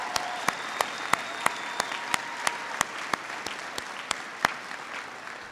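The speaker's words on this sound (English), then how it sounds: "please give a big round of applause to Catherine Dennison" Troops and airmen applaud at a rally on an air base, a broad wash of clapping with distinct sharp claps close by at a brisk, regular rhythm, fairly faint overall.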